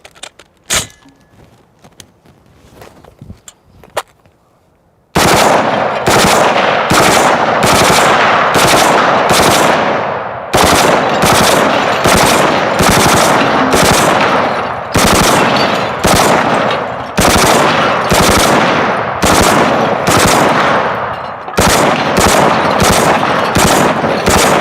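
A CMMG Mutant machine gun fed from a drum magazine fires long full-auto bursts outdoors, loud rapid cracks in repeated strings of several seconds each with short gaps between, after a few quiet clicks of handling.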